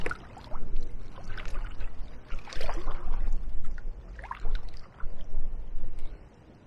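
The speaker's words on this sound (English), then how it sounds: "You can hear the pass running." Water runs and trickles through a fish pass beside a canoe on the River Medway near Tonbridge, a soft, uneven gurgle with small splashes rising and falling, fairly quiet and without talk.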